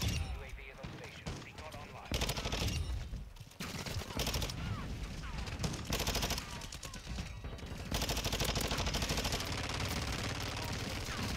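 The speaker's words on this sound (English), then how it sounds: "Why is my teammate shooting at me?" Sustained automatic gunfire from teammates in Call of Duty, a dense, loud stream of rapid shots running through the whole stretch with brief drops, one near two seconds and another near four, and heavier bursts toward the end.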